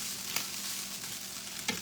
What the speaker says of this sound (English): I hear my meat burning.